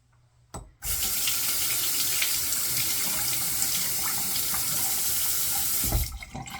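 Tap water running steadily into a sink while soap is rinsed away after a shave, starting abruptly, pouring continuously and loud for about five seconds, then cutting off, with no talking.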